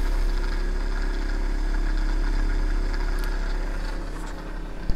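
An Adams-type pulse motor with ceramic magnets running at about 2000 RPM in repulsion and attraction mode, giving a steady, close, even mechanical hum and whir with no pauses and a small click at the very end.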